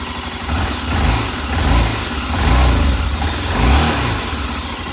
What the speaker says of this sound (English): Let's fire it up, man. I put it on full choke, and I'll just hit the button there.